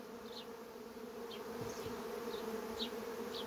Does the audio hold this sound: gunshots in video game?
no